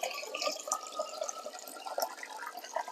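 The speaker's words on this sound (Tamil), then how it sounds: "இதை கொஞ்சம் நல்லா களைஞ்சிடணும். ஒரு 4-5 தண்ணி மாற்றி களைஞ்சிருங்க." Finger millet (ragi) grains are rinsed in water, giving a close, steady trickle with small drips and splashes and no voices.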